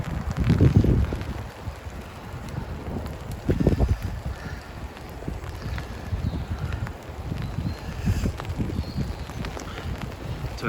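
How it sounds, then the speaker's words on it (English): Gusty wind buffets the microphone beside a grave in an open cemetery, bursts of low rumbling noise coming and going in uneven waves, loudest near the start, with no talking over it. "Oh, it's windy."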